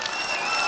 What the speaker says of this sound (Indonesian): Tepuk tangan sekali lagi untuk Presiden terpilih Bapak Prabowo Subianto